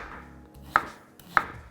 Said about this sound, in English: I'm just gonna slice these really thin.